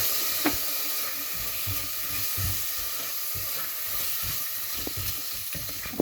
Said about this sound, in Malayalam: തക്കാളി ഒന്ന് ചെറുതായിട്ടൊന്ന് വഴലട്ടെ